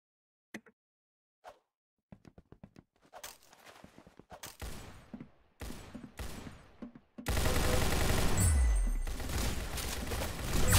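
Gunshots in a video game: a few sharp, isolated shots at first, then scattered bursts building into loud, continuous firing toward the end, with no talking.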